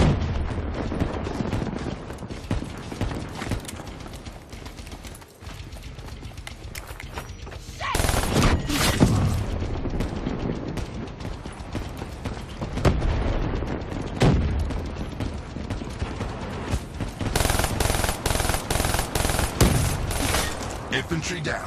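Video game gunfire fills the whole stretch, with dense bursts of rapid automatic fire and heavy booming shots that swell louder around the middle and again near the end, like a continuous close firefight.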